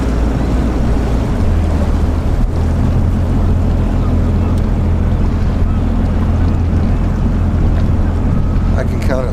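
Several motorboats work the water below a bridge on a walleye jigging outing, a dense, continuous engine drone blended with heavy wind buffeting and lapping water.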